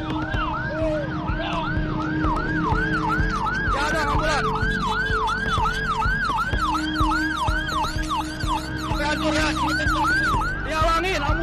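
An ambulance siren wails in a fast, repeating up-and-down cycle close by, loud and continuous over traffic noise and engine rumble on a street.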